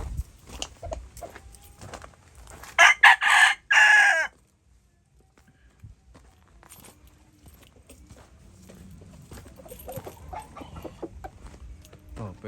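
A Hatch Gray gamefowl rooster crows once, loud and close, in a backyard breeding yard, followed by quieter ambient yard noise and faint movement.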